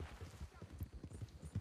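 Horse hooves clop in a video game, a quick rhythmic series of soft thuds at a steady gait, fairly close, with game noise and some talk mixed in.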